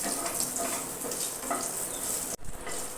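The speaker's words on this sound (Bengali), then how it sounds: "ফোড়নটা একটু ভাজা ভাজা করে নেব।" Bay leaf and whole cumin tempering in hot oil for a shrimp and ash gourd ghonto, a continuous close sizzle with light stirring scrapes and a brief dip partway through.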